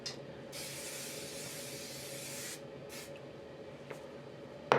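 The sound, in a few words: hairspray being sprayed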